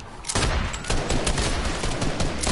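Rapid gunfire in a shooter video game on a new Xbox, dense bursts of close, loud shots firing continuously in a steady volley.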